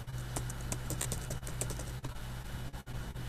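Rapid clicking of computer keyboard keys typed in an uneven rhythm, close and steady with brief pauses, over a low hum.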